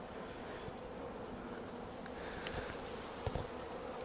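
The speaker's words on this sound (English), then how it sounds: "You can see all the bees festooning along here." Honey bees buzz in a dense, steady drone on a hive frame during a spring hive split, with a few brief handling knocks near the end.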